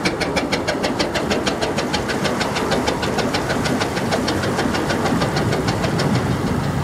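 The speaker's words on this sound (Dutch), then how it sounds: "Wij hebben een driecilinder industrie in de boot." An Industrie 3VD6 three-cylinder diesel boat engine runs close by with a fast, even knocking rhythm and a rough, steady drone, unchanging throughout.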